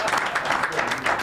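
An audience claps in support during a broadcast family program, a brief burst of dense applause mixed with a voice talking over it.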